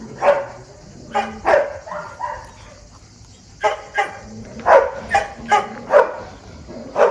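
Dogs bark at an animal shelter, including a wolfdog, in a series of loud, close, irregular barks and yips that come in bursts with short pauses between them.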